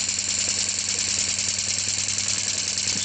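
Hailea silent air pump for steam engine use running steadily, a low constant electric hum with a faint buzzing vibration, close and unchanging throughout.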